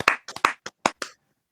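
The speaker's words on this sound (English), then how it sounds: "A round of applause." About seven quick, sharp hand claps from one or two people, close and crisp, spaced unevenly over roughly a second before stopping into silence.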